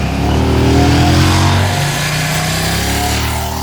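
A 2027 KTM 790 Duke motorcycle ridden in Austria, its engine loud and close, rising then settling as it pulls away, with harmonics sweeping down over a few seconds.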